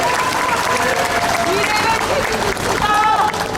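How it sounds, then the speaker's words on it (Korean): A dense crowd claps continuously at an outdoor Seoul political campaign rally, a loud unbroken wash of applause while a voice carries over it. "큰 격려의 박수 한번 부탁드리겠습니다"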